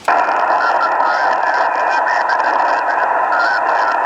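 A faint, warbling ham radio signal buried in steady static hiss, with a constant tone drifting under the noise throughout.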